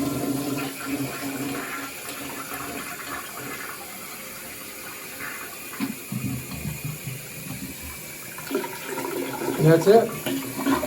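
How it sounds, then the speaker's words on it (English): An American Standard toilet, freshly rebuilt with all new internal parts, flushes in a bathroom; rushing water and refill sounds run throughout, rising toward the end, with someone speaking briefly. "Flush ready."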